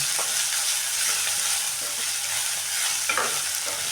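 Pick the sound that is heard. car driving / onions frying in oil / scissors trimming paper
onions frying in oil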